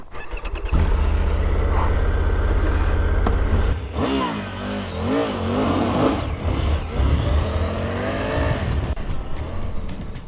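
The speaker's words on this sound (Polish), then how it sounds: "wsiadam na motocykl i jedziemy w te piękne tereny" A motorcycle engine revs and drones continuously while riding in Hungary, rising and falling in pitch as the bike accelerates, loud and close throughout.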